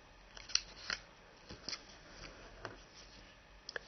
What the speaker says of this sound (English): Make a crease, turn the paper, and bring the other edge to the crease you just created